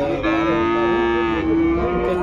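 A Jersey calf moos in one long, drawn-out call with a brief waver near the end, loud and close, at a livestock market.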